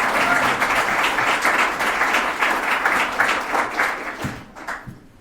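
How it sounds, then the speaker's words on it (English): A lecture audience gives a speaker a warm round of applause, steady dense clapping that fills the hall and then thins out into a few scattered claps. "if we could all give Amanda a warm applause"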